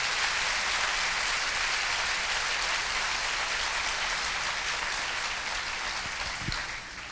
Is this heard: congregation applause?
yes